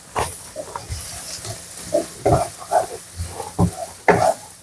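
Bay leaf, lemongrass, galangal and bruised ginger sauté in a pan with a low sizzle and stirring scrapes, close by, while a voice talks intermittently over the cooking.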